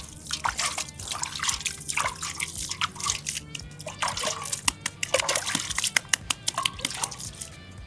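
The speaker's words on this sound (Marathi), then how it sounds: "त्यामध्ये आपण थोडं थोडं पाणी मारूया" Water is sprinkled and dripped onto soil while building a Diwali fort, producing quick irregular splashes and patters, some sharp and close, over a low background hum.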